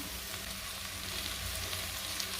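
Dried fish frying in a hot pan for a bottle gourd curry, giving a steady, close, dense sizzle that holds level throughout with no talking.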